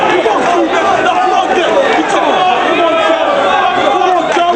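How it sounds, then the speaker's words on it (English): Dense wrestling arena crowd at a Ring of Honor Final Battle event roaring and cheering continuously, a loud, steady wall of voices with chanting swells throughout, no single voice standing out. "listen to that crowd"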